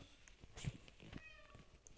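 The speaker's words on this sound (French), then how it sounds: "Il y a mon chat qui miaule." A house cat meows faintly a couple of times against a quiet, slightly noisy indoor background, soft and somewhat distant.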